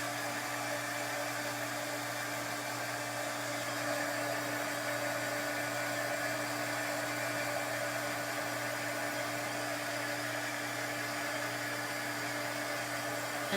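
A hair dryer blows continuously to dry paint between coats, a steady close whirring hum with airy hiss that holds at an even level throughout.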